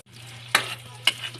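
Onion frying in cooking oil, a steady soft sizzle with two sharp stirring scrapes from a utensil, close and moderately loud, with a low steady hum beneath.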